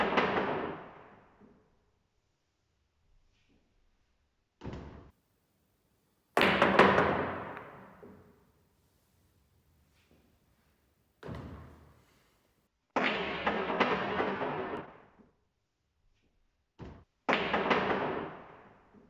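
Pool balls knocked in a billiard trick shot: several sharp, separate clacks and thuds at irregular intervals, some ringing briefly, with quiet gaps between and no talking.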